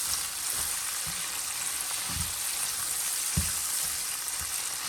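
Garlic frying in a pan on a stovetop set below medium-high, a steady dense sizzle throughout with a few soft low thumps of stirring, close and continuous.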